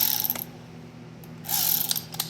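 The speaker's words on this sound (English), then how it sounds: "Put my ratchet on there." Ratchet ratcheting on a frame slider bolt of a 2022 Yamaha R7, two short bursts of close, crisp clicking separated by a pause, over a low steady hum.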